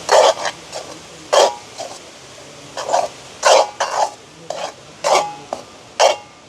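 A peanut and butter mixture being stirred in a pan, a close series of regular scraping, sticky swishes about once a second with quiet gaps between, no talking.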